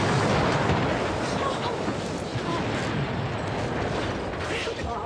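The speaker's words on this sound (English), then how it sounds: "What on earth was that explosion?" An explosion from a batch of hair tonic, a sustained loud rumbling roar that fills the whole stretch and slowly eases off.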